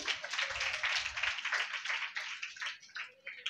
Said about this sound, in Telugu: సాత్విక్ కోసం ఒకసారి చప్పట్లు కొట్టండి.